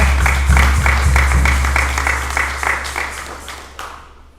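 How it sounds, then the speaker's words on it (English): A small gathering at a funeral service claps in a fairly regular rhythm over a low hum, and the clapping thins and fades out over a few seconds. "Give them a nice round of applause"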